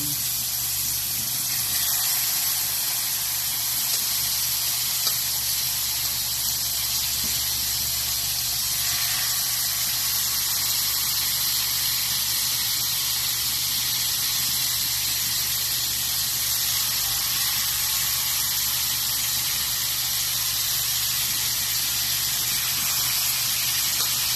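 Chicken frying in a pan over high heat, cooked inasal-style until golden brown, giving a constant loud sizzling hiss that stays even and uninterrupted from start to finish.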